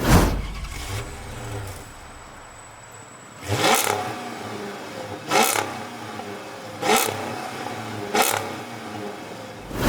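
A Chrysler 300C SRT8's 6.1-litre pushrod Hemi V8, rear muffler removed, idles with a low rumble, then revs sharply four times in quick bursts, each roar rising and falling back to idle.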